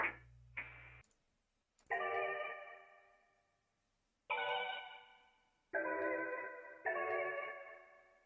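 A percussion sound added to an R&B sample plays a few sharp ticks, then bright ringing hits spaced about a second apart, each fading out with an echoing tail.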